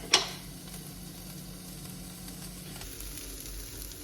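Garlic browning in a pan for a stir fry, a soft, steady sizzle at low volume after a brief clatter at the start, with no talking.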